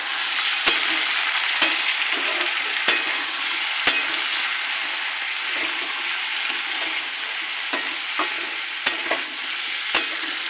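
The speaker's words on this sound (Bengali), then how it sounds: "আর দেবো জিরের গুঁড়ো দেবো হলুদ ও অল্প একটু লঙ্কা দেবো এটাকে কষিয়ে নেবো" Cumin, turmeric and chili sautéing with ginger, tomato and green chili paste for a vegetable labra, a constant loud sizzle punctuated by sharp spatula taps at irregular intervals, close with no talking.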